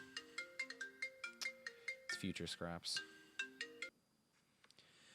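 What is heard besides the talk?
phone ringtone in video game Marvel's Avengers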